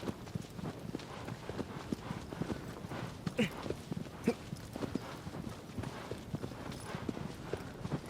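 Horse hooves gallop in the video game Shadow of the Colossus, a fast rhythmic clip-clop that runs steadily throughout at moderate volume with a faint rustle of movement.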